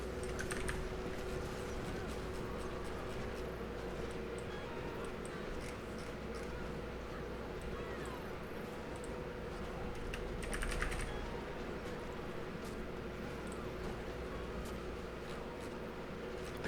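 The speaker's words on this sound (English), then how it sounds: "I'm going to Google and I'm typing in Banff" Someone types on a computer keyboard in a steady, soft patter of quick keystrokes for about seventeen seconds. The typing is faint and close, with no talking.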